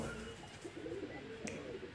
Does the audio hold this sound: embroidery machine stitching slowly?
no